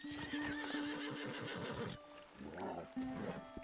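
A horse neighs loudly with a long, shaking whinny, then gives a lower snort-like nicker after a pause. The sound is close and the animal is alone.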